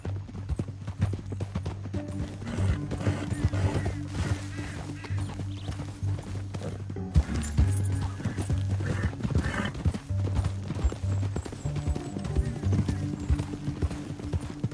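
Steady clip-clop of several horses' hooves at a brisk pace in the video game Red Dead Redemption 2, with occasional whinnies and a dense, continuous rumble throughout.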